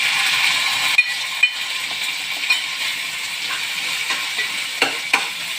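Ground pork or beef fries in a pan with golden-browned garlic for adobong sitaw with tofu, giving a steady, even sizzle broken by a few sharp spatula clicks against the pan.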